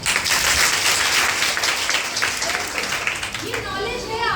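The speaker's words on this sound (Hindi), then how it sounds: "तालियां।" Students clap during a school session on mobile addiction, a fairly dense burst of hand claps mixed with chatter and voices, with some talking rising toward the end.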